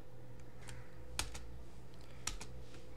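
A few isolated keystrokes on a computer keyboard while writing a Python script for ArcGIS Pro, sharp close clicks over a steady low electrical hum.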